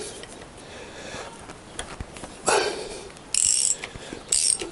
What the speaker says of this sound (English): 12mm socket.